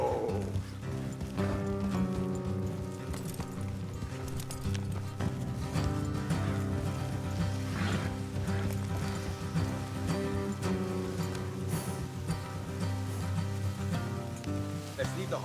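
Horses clip-clopping along an off-road trail in the Red Dead Redemption 2 video game, steady hoofbeats under a constant dense bed of game music and ambience.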